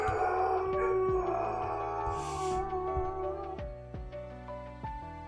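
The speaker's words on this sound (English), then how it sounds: "You hear howling, it's my dog, and he's very, very sad." A dog left alone in another part of a house howls in drawn-out, wavering tones, moderately loud, over a steady rhythmic musical backdrop.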